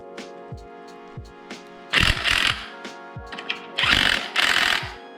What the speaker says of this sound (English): Use a little Loctite on these bolts just to be sure that I'll impact them on here.